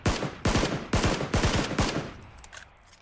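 Gunfire from a rifle aimed with iron sights in PUBG. Six loud, evenly spaced shots come over about two seconds, each with a sharp crack and a short decay, followed by a quiet tail.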